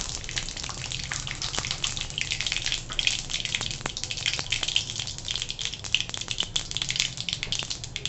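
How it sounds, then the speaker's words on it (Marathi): Mustard seeds and asafoetida sizzle in hot oil in a pan, making a constant close hiss dotted with small, scattered pops and crackles. "आपण तेल टाकून घेतलं तेल तापल्यानंतर आपण थोडीशी त्यात राई टाकायची थोडासा हिंग"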